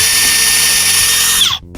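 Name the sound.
Ryobi drill pre-drilling hinge holes in door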